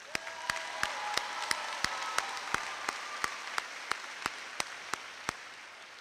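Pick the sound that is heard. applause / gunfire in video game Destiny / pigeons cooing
applause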